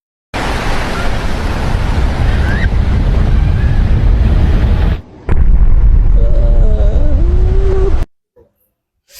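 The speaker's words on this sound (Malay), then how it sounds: "tiba-tiba laut yang terbelah tadi mencantum kembali" A loud, continuous roaring rush of surging sea water as a parted sea crashes back together, with a brief dip midway before the heavy surf sound resumes and then cuts off.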